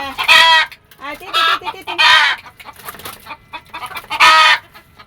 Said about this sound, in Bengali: এই যে দেখেন মুরগিকে খাবার দিয়ে যাচ্ছি